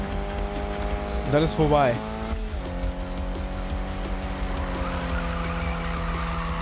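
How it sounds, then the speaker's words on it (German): A car drifts in the racing video game Need for Speed: a steady engine drone with a brief warbling tire squeal near the start, then the motor hums on under someone talking in German. "Ja, der fängt ja automatisch an zu driften."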